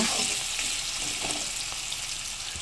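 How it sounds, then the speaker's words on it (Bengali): Onion with chilli and bay leaf frying in a pan until reddish brown, a steady broad sizzle running throughout with faint stirring ticks. "ওটাকে ভালো করে ভেজে নেব, ভালো করে লাল লাল করে ভেজে নেব।"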